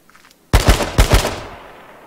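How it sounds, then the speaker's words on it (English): Gunfire from the H1Z1 video game: after a brief quiet lead-in, a loud burst of about four rapid, punchy shots rings out close by, then decays into a short tail. "I'm gonna waste all of my ammo trying to kill this guy, aren't I?"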